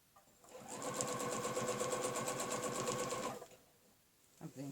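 A sewing machine runs in one steady burst of rapid, even needle strokes while stitching a looping quilting pattern with a ruler, fairly close and quiet, then stops briefly before starting again at the end.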